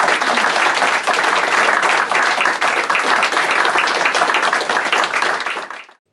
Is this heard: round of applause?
yes